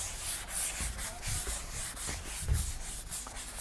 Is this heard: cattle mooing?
no